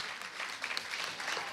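Audience applause for a speaker at a panel on women's impact on the economy, a dense, steady wash of clapping from a crowd, sustained throughout without talk.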